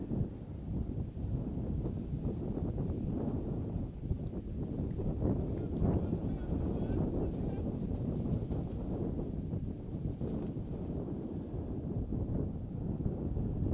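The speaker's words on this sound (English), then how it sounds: "As the wind picks up, blowing right into our faces" Steady wind at an outdoor high school baseball regional game, blowing in from right field as a dull, continuous rumble buffeting the microphone throughout, with no break and no talk.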